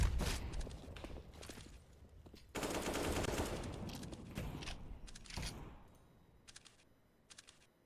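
Rapid automatic gunfire bursts from a Counter-Strike match, including a shot fired through a wall, with a long, loud spray in the middle. Scattered lighter clicks and footsteps follow as the action thins out.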